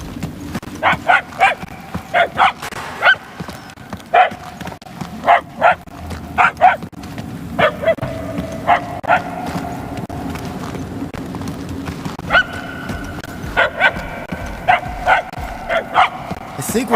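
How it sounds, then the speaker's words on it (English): A dog barks repeatedly in the video game Marvel's Guardians of the Galaxy, sharp barks in clusters coming from moderate distance over a steady ambient background with low rumble. "The barks are getting louder at least."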